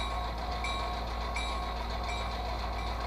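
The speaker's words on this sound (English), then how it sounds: "the bell doesn't sound quite as good with this one" The bell of an HO-scale model locomotive's sound system plays through a small iPhone speaker: a steady electronic ringing with a constant low hum beneath it, sustained and even at moderate loudness.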